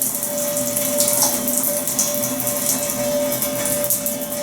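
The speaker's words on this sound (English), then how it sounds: "And that drain is really loud." A hotel room shower runs steadily with a loud drain, a continuous close hiss of falling water over a gurgling, rushing drain and a faint steady hum, with no talk.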